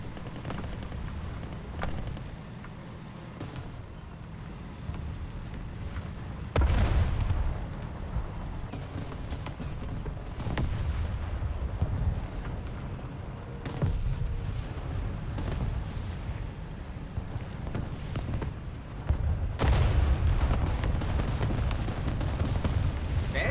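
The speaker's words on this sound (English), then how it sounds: "That's some artillery." Artillery fire in War Thunder, a few deep booming blasts spaced across a low rumbling battlefield backdrop, moderately loud.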